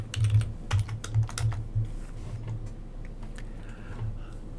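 Keys clatter on a computer keyboard, a quick burst of close taps followed by a few sparser presses, quiet and alone without any voice.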